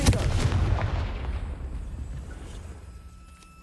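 A Confringo blast spell detonates in the Hogwarts Legacy video game, a single loud close explosion at the start whose heavy rumble slowly fades over several seconds.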